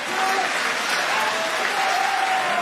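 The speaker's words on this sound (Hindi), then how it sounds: "जोरदार तालियां बजाओ सब मिलके" A comedy show audience claps loudly and continuously, dense applause from a large crowd with faint voices mixed in underneath.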